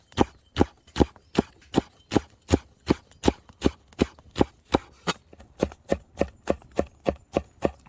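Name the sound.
knife chopping food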